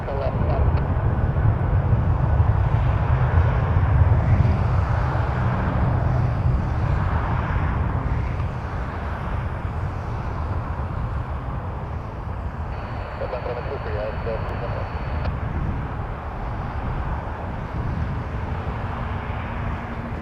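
An American Airlines jet takes off from runway 23 at Toronto Pearson, its engines a steady, loud broadband roar that holds throughout with only a slight easing, while a radio-style voice speaks over it.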